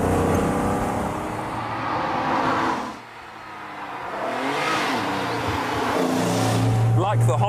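A 2003 TVR Tamora sports car with a 350 bhp engine, its engine droning and revving through rising and falling pitch sweeps, briefly easing before building again, with someone talking over it.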